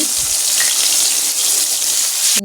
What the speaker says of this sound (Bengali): তেলটা গরম হয়ে এসেছে। মাছের পিসগুলো এক এক করে দিয়ে দিচ্ছি।